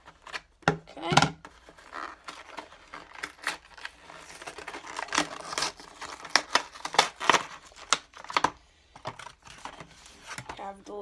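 Irregular snips and crinkling of plastic Beyblade toy packaging being cut with scissors, close and sharp, with bursts of rustling between cuts.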